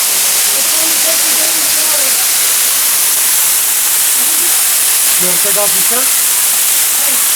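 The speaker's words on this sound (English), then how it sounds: "How cool to be behind the waterfall." Waterfall at Twin Falls in Devil's Den, Arkansas, roaring as a steady broadband wash close by from behind the falling water, with people talking over it.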